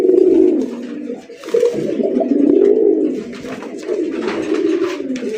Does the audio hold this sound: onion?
no